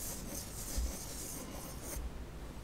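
A pencil sketching a tree on paper, a soft, steady scratchy rubbing of graphite strokes, close and quiet, with no talk.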